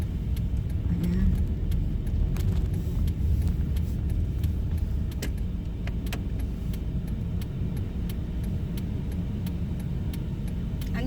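Inside a moving car, a steady low road rumble and engine hum run continuously, with faint occasional ticks and rattles and no talking.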